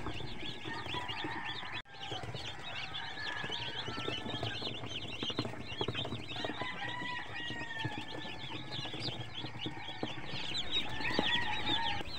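Newly arrived chicks, on day zero in a brooder, chirp in a dense, steady chorus as feed is scattered across their floor. Cheeping and clucking continue throughout at an even, moderate level, close by.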